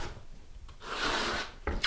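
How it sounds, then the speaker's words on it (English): A putty knife rubs and scrapes floor filler into fastener holes and dips on a subfloor before vinyl flooring goes down, a close, gritty swipe with a sharper scrape at the end. "you're just trying to rub it into any of the spots where you've got fasteners or dips and dives"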